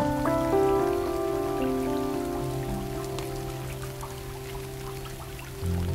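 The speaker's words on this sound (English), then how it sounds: "Oh my God, it rains again." Steady rain falling and pattering on surfaces, a constant wash of drops heard alone, with a soft sustained musical drone layered beneath it.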